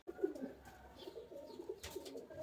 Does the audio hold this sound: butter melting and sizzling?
no